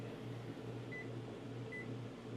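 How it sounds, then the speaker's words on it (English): A microwave oven powered by a Jackery Home Power 3600 Plus station hums steadily and quietly, a low even drone with two faint electronic beeps. "Microwave's going."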